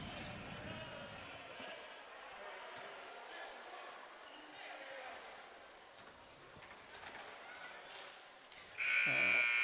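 A buzzer sounds loudly at the end of the third quarter of a boys' high school basketball game, Cashion at Oklahoma Bible, cutting in sharply after a stretch of faint gym noise and commentary.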